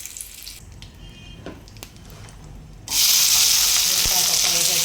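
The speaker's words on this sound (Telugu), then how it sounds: "ఇందులోనే మనం శుభ్రం చేసి పెట్టుకున్న బీరకాయలు అయితే వేసేద్దాం" Cleaned ridge gourd peel dropped into hot oil with curry leaves, a quiet kitchen suddenly bursting into loud, steady sizzling that holds to the end, with a light clink partway through.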